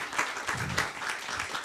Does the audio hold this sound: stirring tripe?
no